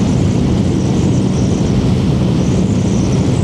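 Engine of a Honda VFR 1200 motorcycle held steady at about 4000 RPM, a continuous loud droning hum with a dense low rumble, constant throughout with no breaks and no voices.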